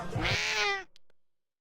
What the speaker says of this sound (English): He was the best little kitty an old geezer like me could ever ask for.